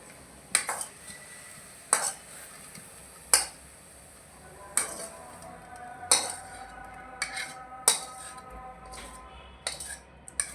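Cooked amaranth greens lifted off the stove in a pan, heard as sharp metal clinks of a utensil against cookware, repeating about every second, close and clear, with a faint background hum and no talking.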